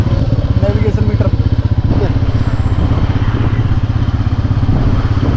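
Royal Enfield motorcycle on a test drive, its engine thumping in a loud, close, rapid steady beat, with voices talking over it.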